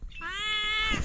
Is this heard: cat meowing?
yes